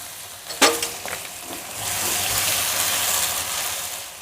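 Onions, green peas and two tomatoes fry in a pan for a potato bonda filling, giving a steady sizzle that swells after a few clinks and scrapes of the utensil early on.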